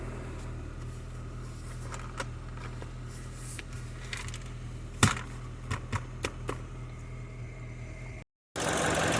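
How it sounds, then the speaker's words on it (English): A Mini Cooper R56 with the check engine light on idles steadily as a low, even hum with a few small clicks and bumps, ending in a brief silence and then a louder burst of noise. "It's idling reasonably smooth."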